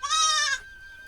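A goat on a river char in Bangladesh gives a single short, close, loud bleat, followed by a faint lingering tone and quiet background.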